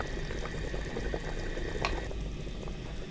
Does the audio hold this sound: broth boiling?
yes